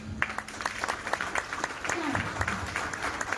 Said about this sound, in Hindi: जब हमें किसी की बात समझ में आती है कि वाकई इस पे इम्प्लीमेंट करनी चाहिए तो हमें तालियां बजानी चाहिए